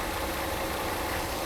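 A Mercedes R129 300SL, its engine freshly serviced after fuel distributor repair, idles steadily and smoothly, a continuous even hum with no voices over it.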